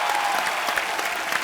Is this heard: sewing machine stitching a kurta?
no